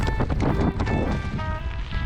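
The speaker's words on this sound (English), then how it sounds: "I think it goes to show how windy it is out here today" Strong wind buffets the microphone in a constant, rough roar beside a whitecapped pond, with no voices.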